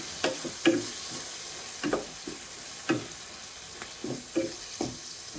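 Shrimp sautéed with oyster sauce is stirred in a sizzling pan, with about nine spaced scrapes of the utensil over a soft, steady frying hiss.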